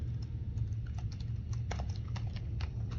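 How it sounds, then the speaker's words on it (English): Steady typing on a computer keyboard, a quick irregular patter of soft key clicks close to the microphone over a low background hum. "So I will type it in."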